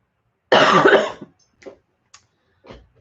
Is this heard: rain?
no